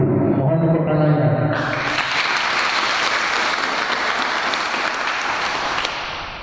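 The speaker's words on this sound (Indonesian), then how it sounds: "Mohon tepuk tangannya." Applause from a crowd at a Tarung Derajat martial arts gathering in Kediri, a dense, loud, continuous roar of clapping that follows a brief tonal sound at the start and holds steady to the end.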